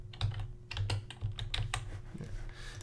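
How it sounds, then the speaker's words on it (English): Quick keystrokes on a computer keyboard, a run of close, crisp clicks in an uneven rhythm, fairly quiet and alone with no talking. "And here just type start with a capital S."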